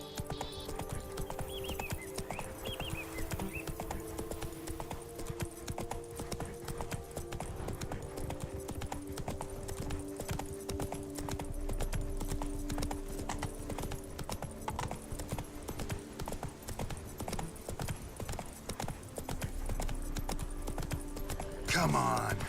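A horse's hooves clip-clop in a steady, fast rhythm throughout a Witcher 3 game scene, close and continuous, with a rider's voice speaking now and then over the hoofbeats.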